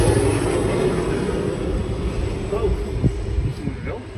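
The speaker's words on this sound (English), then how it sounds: "I'm going to pause for the airplane." An airplane passes overhead at a truck pre-trip inspection, a broad steady roar under an idling engine, moderately loud and sustained.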